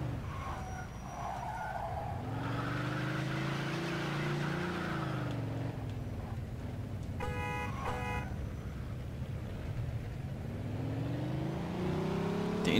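Car engine droning steadily in the Mafia 2 video game, rising and falling in pitch as the car drives along, with a brief horn-like tone partway through and a surge toward the end.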